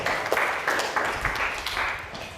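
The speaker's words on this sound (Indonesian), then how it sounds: "coba beri tepuk tangan dulu untuk semuanya" Classroom applause during a sociology lesson in Indonesia, a short round of students clapping steadily together, moderately loud and fairly close, with no talking over it.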